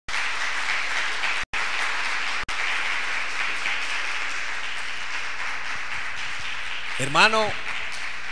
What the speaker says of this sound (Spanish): Denle un fuerte aplauso al Rey de Gloria.